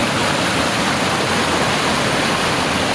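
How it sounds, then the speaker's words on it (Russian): A turbulent spring stream rushes beneath a bridge in a steady, loud, unbroken roar of churning water, heard close, with no other sounds. "Вот под нами бурный поток."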